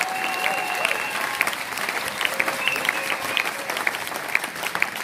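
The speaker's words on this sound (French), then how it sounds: "Est-ce qu'on peut acclamer celui qui est Jésus?" A church congregation applauds and cheers in praise of Jesus, a dense, loud, sustained wash of clapping with scattered voices rising through it from start to finish.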